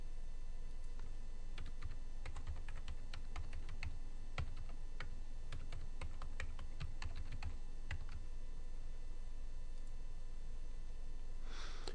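Computer keyboard typed on steadily while logging in as an administrator: a quick run of light clicks and keystrokes over a constant background hiss, with no speech.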